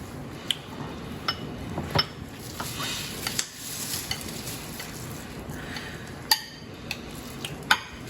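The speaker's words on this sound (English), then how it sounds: "Now we're going to add the peas." Peas tumble into a dish while a shepherd's pie is layered, giving soft scattered taps and clinks of a spoon against the pan over a quiet hiss.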